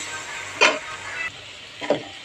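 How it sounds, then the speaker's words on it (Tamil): Soft sizzling from a pan of tomato, fennel seeds, cinnamon, cloves and coconut sautéing for egg curry masala, with two sharp scraping stirs, close and moderately loud, over a steady hiss. "தக்காளி, சோம்பு, பட்டை, கிராம்பு, தேங்காய் இதெல்லாம் நல்லா போட்டு வதக்கிக்கணுங்க"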